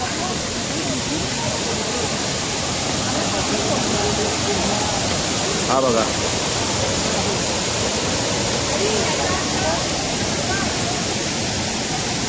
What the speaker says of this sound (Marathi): हा सवतकडा धबधबा आहे.